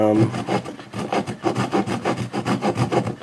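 Quick back-and-forth strokes of a small Kershaw Funxion folding saw rasp through wood in a steady rhythm, close and fairly loud, with no voices.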